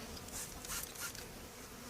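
Honeybees around a queen box at an open hive drone in a steady, faint buzz that holds evenly for two seconds with no voices.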